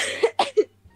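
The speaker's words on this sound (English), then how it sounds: "I'm coughing." Three short, sharp coughs come from one person close up, fairly loud and separated by brief pauses.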